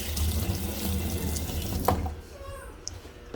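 Tap water runs into a sink during washing with a steady rushing splash that stops partway through, leaving quieter drips and faint background sounds.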